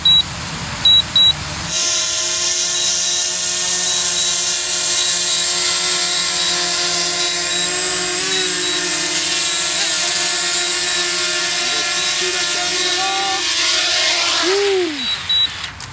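A DJI Mavic Mini drone flies in to land, its high, whining rotor buzz steady and close, with the pitch sliding near the end as it settles; a few short beeps come at the start and finish.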